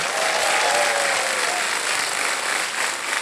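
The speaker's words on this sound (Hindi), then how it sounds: "तालियां बज जाए इनके लिए।" Studio audience applause on the KBC Season 16 quiz show: a dense, loud, continuous wash of clapping that holds steady for the whole stretch, with no voices over it.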